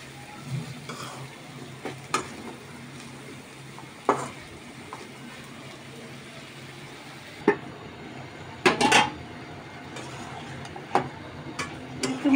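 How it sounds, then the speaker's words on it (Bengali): A dry fry of small shrimp with potato and aubergine is stirred in a pan, a soft steady sizzle broken by scattered clinks and scrapes of a spatula against the pan, close and without speech. "একটু নেড়ে চেড়ে দিলাম, আবার একটু ঢাকবো।"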